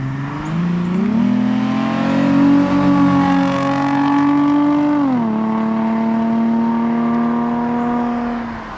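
Loud Lexus IS350 engine with a new exhaust revving close by, pitch rising and holding, then shifting up again in a steady droning roar with no talking.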